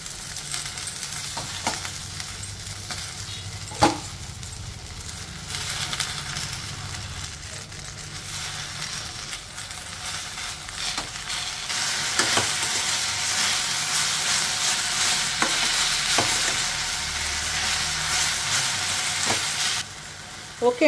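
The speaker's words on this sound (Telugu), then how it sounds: "ఇప్పుడు ఇందులో పుదీనా వేసేసుకుందాము." Mint leaves frying in a pan with green chilies and cumin for a chutney give off a steady, hissing sizzle with occasional stirring clicks. The sizzle grows noticeably louder and denser about midway through and carries on without talk.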